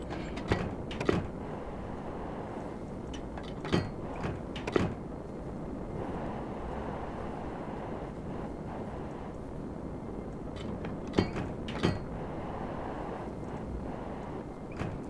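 In the space-survival game Stationeers, a sheet of glass is set into a window frame on a harsh Vulcan-type world, giving several creaking, sliding mechanical clunks at irregular intervals over a constant rushing hum.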